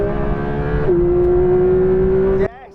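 A car accelerates hard in a drag race against a BMW, its loud, close engine drone holding a steady, rising pitch before cutting off abruptly near the end.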